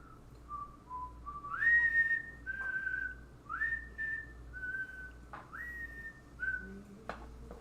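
A person whistles a tune from an avant-garde scary movie, a series of clear sliding notes with short gaps between them, close and fairly soft over a faint low hum.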